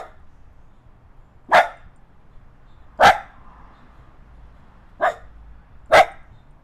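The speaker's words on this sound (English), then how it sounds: "So you barking at the electrical guys," A dog barks four times, single sharp woofs spaced a second or two apart, fairly close against a quiet background.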